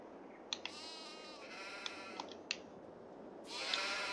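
Sheep bleating on a farm in Farming Simulator 22, several short separate bleats over a quiet ambient bed, moderately close, with no talking.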